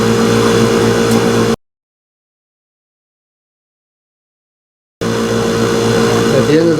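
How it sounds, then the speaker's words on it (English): A vibrating table runs alongside a vacuum pump during an asphalt rice test, giving a loud, steady mechanical hum that cuts out completely for several seconds and then resumes unchanged. "That's what the intent of the vibrating table is that it moves around"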